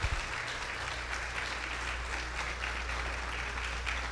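Church congregation clapping hands in praise to God, a dense, steady wash of applause filling the whole stretch, loud and continuous with no pauses.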